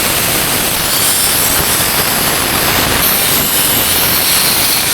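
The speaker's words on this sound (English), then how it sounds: "Going back to the sandblaster." A sandblaster used on a project car runs continuously, a loud, dense hiss of blasting air and grit that stays steady throughout with no break and no voices.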